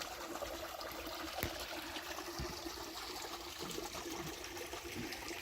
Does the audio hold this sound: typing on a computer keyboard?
no